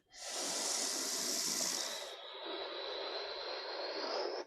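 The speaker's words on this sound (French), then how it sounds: "Inspire. Et relâche." A slow, close breath fills the space, a long airy inhale followed by a steady hissing exhale, alone in quiet.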